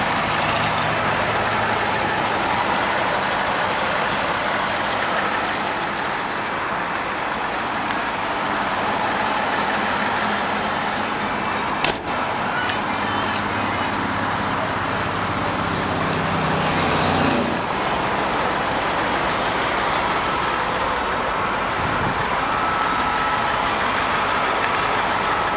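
A 2003 BMW 745i with a 4.4-liter engine idles in a smooth, quiet, steady hum that barely varies, with a brief click midway and no talking.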